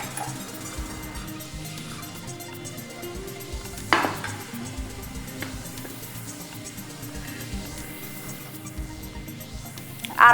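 A spoon stirs microwaved malai jorda, a sweet rice dish, in its container with steady soft scraping and light clinks, a sharper clatter midway and another at the end, with no talking.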